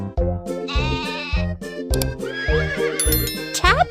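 A sheep bleats in a Baby Bus children's game over a bouncy, cartoonish musical backing, with playful electronic tones and a few bright sound effects.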